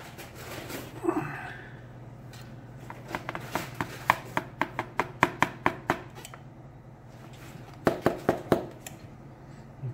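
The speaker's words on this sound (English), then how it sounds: "she discovers she can rip newspaper" A dog tears up newspaper close by, with quick bursts of sharp ripping strokes in uneven clusters, some grouped in fast runs, separated by quieter pauses.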